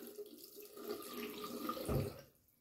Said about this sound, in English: Cold water there.